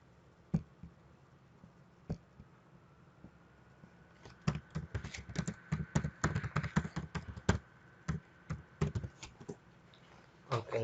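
Computer keyboard keys clatter close up while coding JavaScript, a few isolated taps at first, then a dense burst of rapid typing followed by scattered keystrokes, with no voices.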